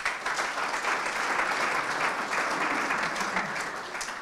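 Sustained audience applause at a club meeting, a dense even clatter of many clapping hands lasting throughout, fairly loud and close.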